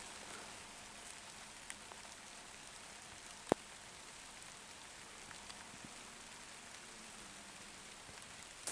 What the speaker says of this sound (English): Well, it started to rain